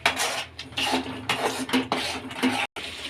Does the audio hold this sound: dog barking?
no